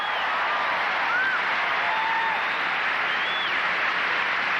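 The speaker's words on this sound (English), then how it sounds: "Very appreciative crowd." Steady applause from a gymnastics arena crowd at the 1984 McDonald's International Gymnastics Classic, USA versus China, a broad even wash of clapping with a few faint whistles and calls on top.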